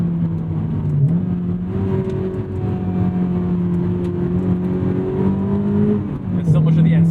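Mazda Miata NC engine droning at steady revs with throttle blips for rev-matched downshifts, rising and falling in pitch, heard from inside the car under continuous talking.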